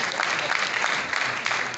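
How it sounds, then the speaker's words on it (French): A crowd at an awards ceremony applauds for Linda, dense sustained clapping at an even level throughout the short stretch. "Est-ce qu'on peut applaudir bien fort pour Linda?"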